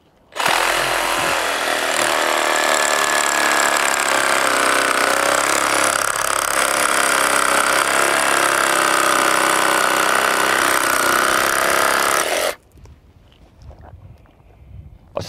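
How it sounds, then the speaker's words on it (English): A sawzall reciprocating saw cuts metal in a technical rescue setting, a loud continuous buzzing rasp lasting about twelve seconds before stopping abruptly into near quiet. "Next commonly placed tool that we might want to use would be the sawzall,"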